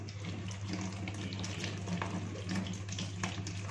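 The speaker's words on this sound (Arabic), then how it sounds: "فانا البتنجانتين باخدهم اغسلهم كويس خالص اهو" Tap water runs steadily into a kitchen sink while two eggplants are washed under it, giving a continuous close hiss and splash with slight shifts as the vegetables are handled.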